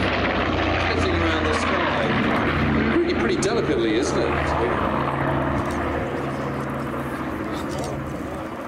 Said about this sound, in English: It's a bomber, for goodness sake.